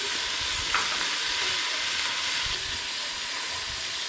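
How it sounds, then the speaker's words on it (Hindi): Garlic paste sizzling and frying in a hot pan, a loud continuous hiss held steady throughout with occasional faint stirring scrapes underneath, and no voices heard. "लहसुन की पेस्ट, ये शामिल कर दूंगी मैं। अच्छी तरह से भून लूँगी।"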